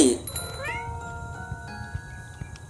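A cat meows in a video game, with a bright rising cry at the start followed by a steady high electronic tone and soft background game sounds underneath.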